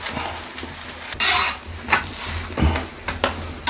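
Kerala parotta frying in oil on a hot pan, a steady sizzle with scraping and a louder burst of hissing as it is turned, occasional utensil clinks, close and without talk.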